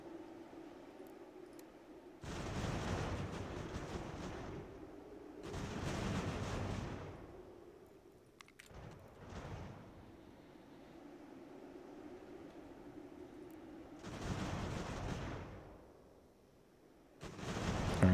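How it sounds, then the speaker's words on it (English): Volleys of musket fire from a battle in Ultimate General: American Revolution, several long rolling bursts of crackling shots separated by quieter gaps over a low ambient rumble. "So 400 muskets versus 100 here. They're firing on the flank"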